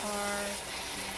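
A kitchen tap runs steadily as herbs are rinsed, a close, continuous rushing of water over a short moment, with a hint of a voice under it.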